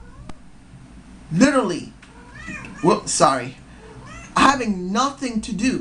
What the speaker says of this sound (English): Sorry for the cat meowing.